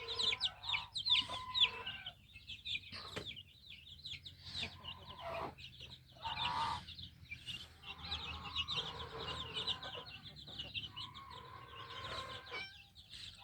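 Several free-range chickens, including yellow hens with chicks, cluck and chatter nearby on a farm in short irregular bursts, with faint background noise and occasional louder squawks.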